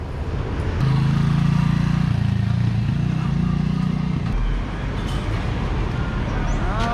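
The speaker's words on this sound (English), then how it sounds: "It's always hard to see which cars are going where." Street traffic in Chiang Mai, Thailand, with cars, motorbikes and trucks rumbling past nearby in a steady loud wash of engine noise. People talk over the traffic.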